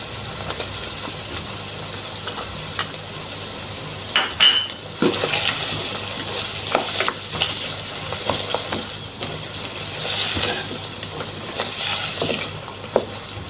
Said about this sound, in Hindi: अब हम इसके अंदर अदरक लहसुन का पेस्ट डालेंगे